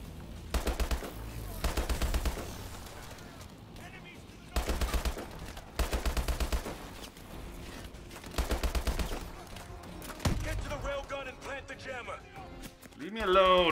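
Rapid bursts of automatic gunfire from Call of Duty: Advanced Warfare, several loud, sharply chopped volleys separated by short pauses, with someone talking between and over the shots.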